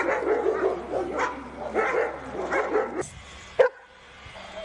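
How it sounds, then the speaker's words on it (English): A mine detection dog barks repeatedly while playing with other dogs, with loud, close barks and yips in quick bursts, then one sharp yelp before the clip goes quieter. "We can now see him playing with other dogs."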